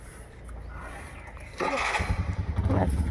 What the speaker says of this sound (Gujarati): ચાલે જો બાઇક ચાલુ કરીને હવે એ જશે.